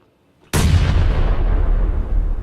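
A heavy grenade blast in the battle royale game PUBG erupts after half a second of near silence, then a loud, sustained rumbling roar with crackling debris fills the rest, close and alone.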